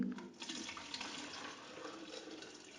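Milk pouring steadily into a container on a small farm, a continuous splashing stream running for a few seconds.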